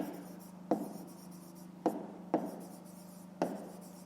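Pen writing on paper, steady faint scratching broken by four sharp taps or strokes spaced irregularly, close and quiet with no talk.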